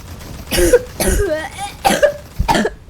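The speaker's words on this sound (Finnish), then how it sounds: "Mä yskin nyt." A person coughs in several harsh bursts, roughly four spaced coughs with a throaty edge, close and fairly loud, with no talking in between.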